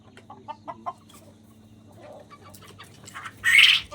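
Sharp clucks from a nearby chicken on a farm, a few short calls early on and then a louder squawking burst near the end, over a low background hum.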